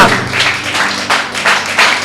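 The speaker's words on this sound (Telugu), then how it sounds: "గట్టిగా చప్పట్లు కొట్టి దేవుని నామాన్ని మహిమపరుద్దాము" A church congregation claps loudly in praise, a dense wash of many hands in regular pulses roughly every third of a second, filling the room.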